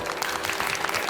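Brief burst of audience applause at an LG Ultra HD product launch event, a dense patter of clapping at moderate level.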